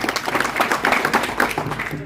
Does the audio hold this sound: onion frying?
no